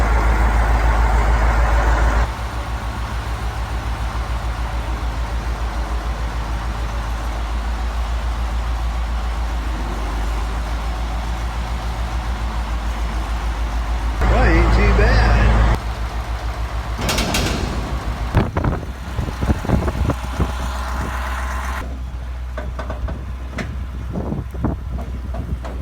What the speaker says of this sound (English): We got Cooper attempting to back up a grain cart.